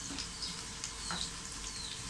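Papad frying in hot oil in a pan at home: a steady, close sizzle with crackly bubbling throughout, a few brighter pops standing out, and a sharp clink at the very end.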